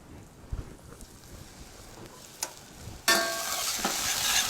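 Onions frying in a pan while a free-range chapon supreme is being cooked, starting as faint stirring and low noise, then a loud, steady sizzle that bursts in partway through and holds to the end.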